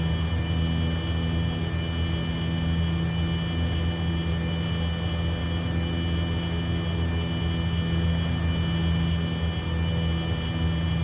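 Steady drone of a Piper PA-28-161 Warrior II single-engine piston aircraft in Microsoft Flight Simulator, held near a stall, a constant propeller hum with tonal whine and no interruptions.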